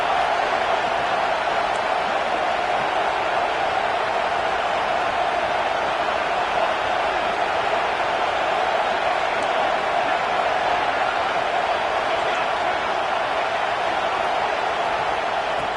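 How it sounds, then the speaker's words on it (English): A fired-up home crowd roars in a football stadium, a dense, steady wall of noise that holds for the whole stretch with no break or swell. "It's early, but this crowd is fired up. Listen to this noise here."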